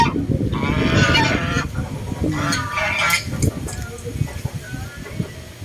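Several geese honk in loud, raspy bursts close by, with a person talking underneath and the calls fading toward the end.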